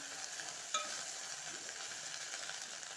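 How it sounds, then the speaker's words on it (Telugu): Okra fry being stirred in a pan after chilli powder goes in, with a steady close sizzle and a single sharp scrape of the spoon early on. "వేసి ఇలా కలుపుకోవడం అన్నమాట"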